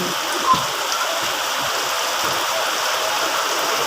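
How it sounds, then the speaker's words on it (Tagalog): Heavy rain pours down in a steady, dense hiss, drumming evenly on surfaces with no voices. "Lakas ng ulan guys."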